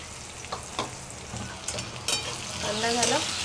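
Onions frying in oil in a pan for Puneri misal rassa, a steady soft sizzle with occasional stirring scrapes; a voice speaks briefly near the end.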